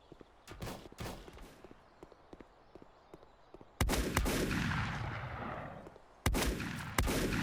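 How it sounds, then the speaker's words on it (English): Gunfire in the steampunk survival game Volcanoids: a few sharp shot transients early on, then two loud heavy blasts with long rumbling decays, standing alone without talk. "The shooting is very easy."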